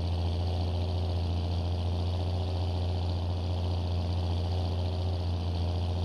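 Tractor engine running in Farming Simulator 22, a steady droning hum at constant revs, loud and unbroken, with no talking.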